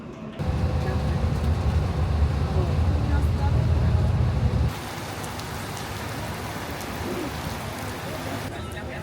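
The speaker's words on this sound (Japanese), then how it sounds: "ニコシアからラルナカ行きのバス乗ってる時にとんでもない量の雨が降ってきて" Heavy rain drums steadily on a bus travelling from Nicosia to Larnaca in Cyprus, a dense loud hiss that eases partway through, with road and engine rumble underneath.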